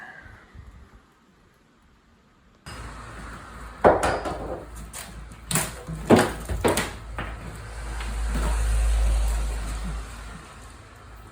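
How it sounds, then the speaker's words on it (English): New doors being fitted during a house renovation, with clunks, knocks and wooden thumps close by, several sharp impacts in quick succession followed by a low rumbling background. "New doors going in."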